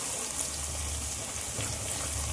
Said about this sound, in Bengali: তো চলুন রসুনটা ভেজে নেওয়া যাক।